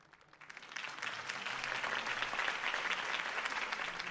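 A crowd applauds after a mayoral campaign speech for Harvey Dent in the Batman Telltale Series video game, with dense clapping that swells in within the first second and holds steady and full to the end.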